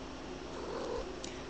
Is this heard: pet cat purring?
yes